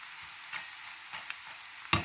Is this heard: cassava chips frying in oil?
yes